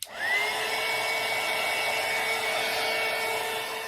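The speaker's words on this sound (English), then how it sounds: "these need to be dried too, so I'll use my heater or heating tool" A handheld heat tool blows steadily to dry a craft ornament, a constant whooshing roar with a faint whine that starts right away and runs unbroken, no talking.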